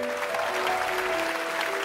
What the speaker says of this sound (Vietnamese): Mọi người cho chị Xuân một tràng vỗ tay nữa được không ạ?